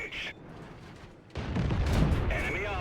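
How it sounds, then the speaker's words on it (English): Tank cannon fire in World of Tanks as a Cromwell light tank comes under attack on the Steppes map: a heavy boom about halfway through swells into dense, sustained rumbling battle noise. "Aggressor is still focusing his fire on the Cromwell and putting a few good shots in him."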